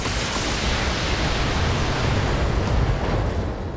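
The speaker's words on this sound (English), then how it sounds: "Oh, another ammo explosion." An ammo explosion in the BattleTech mech combat game roars as a dense, sustained rumbling blast that fills the whole clip at a steady loud level, with no voices.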